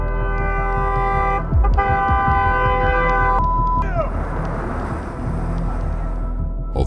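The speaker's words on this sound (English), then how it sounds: "starts honking again" A car horn honks repeatedly in long sustained blasts at a roadside confrontation with an angry driver, loud and close, with rumbling traffic noise and brief shouting underneath.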